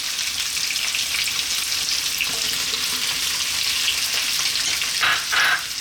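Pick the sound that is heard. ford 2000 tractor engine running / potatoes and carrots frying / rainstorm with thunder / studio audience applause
potatoes and carrots frying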